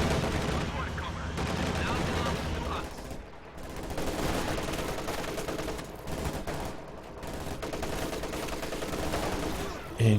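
Bursts of MG34 machine gun fire in a Company of Heroes 2 battle, layered among other gunfire, explosions and a dense, loud wartime din throughout, with a voice talking over it.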